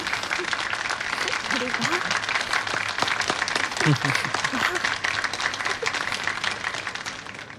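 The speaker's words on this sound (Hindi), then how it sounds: "चलो बच्चों, सब लोग इसके लिए तालियां बजाओ।" A classroom of children claps together for a classmate, a lively scatter of hand claps running continuously under nearby voices that speak over it.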